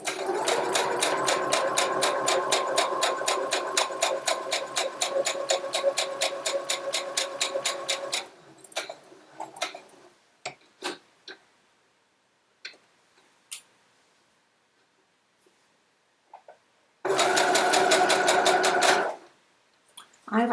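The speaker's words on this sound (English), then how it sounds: "I've actually got a lovely feature on my sewing machine" A sewing machine stitches a quilt in a fast, steady run, stops, gives a few scattered clicks and taps, then bursts into rapid stitching again near the end.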